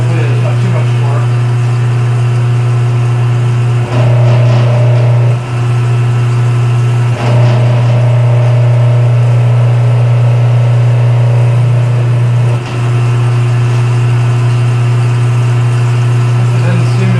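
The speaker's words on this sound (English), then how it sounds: "Now let's try plugging in the motor." The electric motor of a 2x72 belt grinder build hums loudly and steadily after being plugged in, a constant low drone that is not running quite right. A few brief clicks and shifts break it up.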